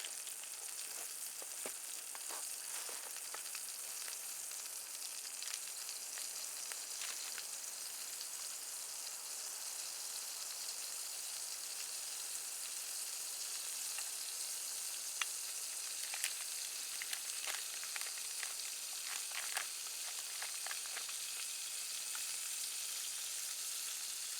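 Sausage pieces sizzle and fry in butter in a pan on a Bushbox LF camp stove, a steady dense crackle with scattered sharper pops running throughout, close and fairly quiet with no talking.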